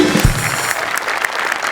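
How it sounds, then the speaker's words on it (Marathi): Brief burst of audience applause from a comedy show crowd, loud and close, clapping steadily for under two seconds. "मी उभं राहून टाळ्या वाजवू इच्छितो या क्षणी"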